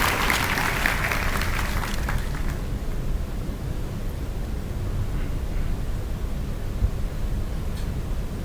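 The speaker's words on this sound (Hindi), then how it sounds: "आप सबकी जोरदार तालियों के माध्यम में आमंत्रित हैं हमारे कुलपति महोदय।" Applause from an audience at a university ceremony in Haridwar, a broad wash of clapping over the first couple of seconds that fades into a steady hiss of room noise.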